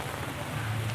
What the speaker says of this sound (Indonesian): diguyur hujan.